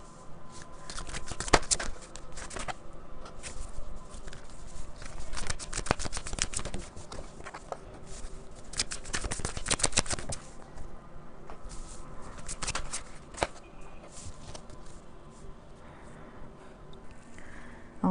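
Tarot cards are shuffled by hand close up, with repeated papery riffles and slaps coming in uneven bursts that continue steadily throughout, with no talking.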